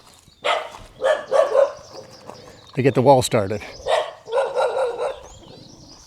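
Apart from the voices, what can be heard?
dog barking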